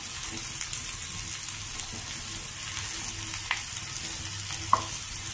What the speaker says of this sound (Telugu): బాగా ఫ్రై అవుతోంది కూర